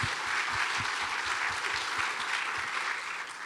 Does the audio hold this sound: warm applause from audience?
yes